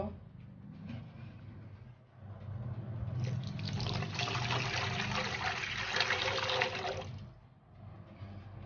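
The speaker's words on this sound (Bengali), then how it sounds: "এতে এক কাপ পানি মিশিয়ে নিব" Water poured from a cup into a pan holding two cups of sugar for Bombay Karachi halwa, a steady splashing pour of a few seconds that swells to full strength midway, then tapers off.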